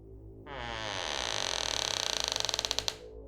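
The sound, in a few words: closet door creaking open by itself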